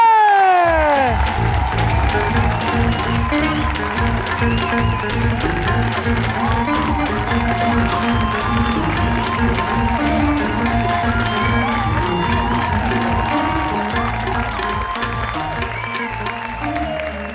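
A talk show studio audience claps and cheers steadily over loud stage music as a guest walks on, with a name called out briefly at the start.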